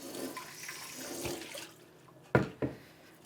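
Water briefly runs over alfalfa seeds in a sieve, then stops, followed by two soft knocks close by.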